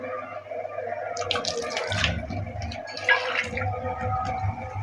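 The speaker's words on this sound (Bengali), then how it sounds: "একটু পানি দিয়ে দেবো।" Water is poured into a pan of frying spices with turmeric, chili powder and salt, making a close splashing, bubbling pour that swells twice over a low background hum.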